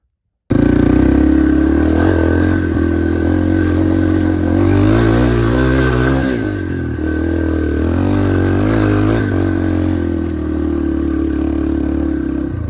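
A dirt bike engine roars loud and close, revving steadily as it rides up a hill on a trail, with a brief dip and climb in pitch partway through.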